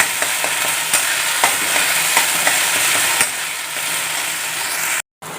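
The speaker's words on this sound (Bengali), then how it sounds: "নাড়িয়ে একটু কষাতে হবে।" Onion and ginger paste sizzles and fries in a pan under steady stirring, with regular scraping strokes over a continuous hiss, close and fairly loud, cutting out briefly near the end.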